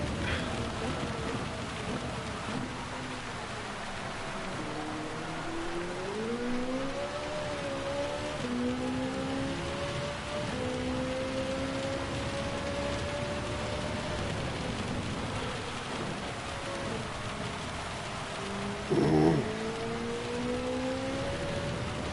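Torrential rain pours steadily across the Red Bull Ring in a racing video game, a constant hiss under a car engine whose pitch rises and falls through the gears, with one brief louder burst near the end.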